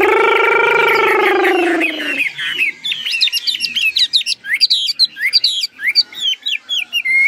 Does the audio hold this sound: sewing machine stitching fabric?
no